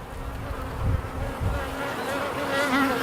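Honeybees buzz in a dense, close swarm during a hive inspection, a continuous droning hum that rises and falls slightly, with no voices.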